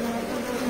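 Bees hum in a continuous steady drone inside an oval iron beehive, close and even for a brief moment.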